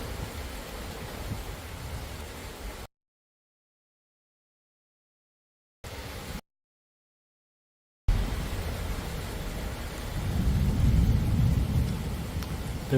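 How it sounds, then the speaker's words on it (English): Thunder rolls during a thunderstorm, a low rumbling swell under a constant rain-like hiss, broken by stretches of silence before the rumble builds loudly near the end. "There's thunder and lightning all around."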